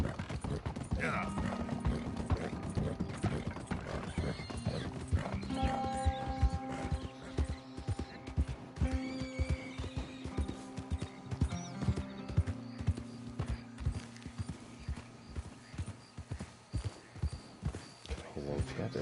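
Horse hooves clip-clop steadily on the ground in Red Dead Redemption 2, a continuous rhythmic trot under game music and ambience, with a brief whinny early on and faint mechanical clinks.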